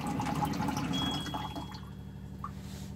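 Hot water at 100 degrees dispensed from the flow heater of a camper van's water filter system: trickling and dripping that is louder at first and then fades to a softer patter.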